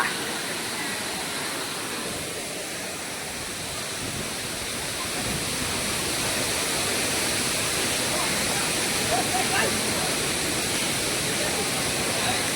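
Water pours down Savdav waterfall in Konkan, a continuous broadband roar of falling water close by that holds steady throughout, with no talk over it.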